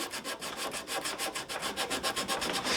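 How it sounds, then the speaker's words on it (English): A wooden guitar neck with a scarf joint is sanded by hand with 80 grit sandpaper, giving close, rhythmic back-and-forth rasping strokes, about eight per second, steady and alone. "Some 80 grit sandpaper."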